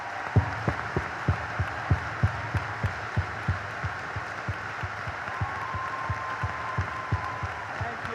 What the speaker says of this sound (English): stand up so we can give you a big round of applause